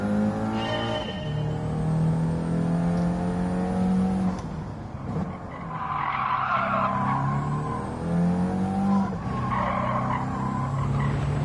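Toyota Celica race car at Suzuka in Gran Turismo 7, engine revving up and down through gears with rising and falling pitch sweeps and bursts of tyre squeal in the corners, close and loud, no talking.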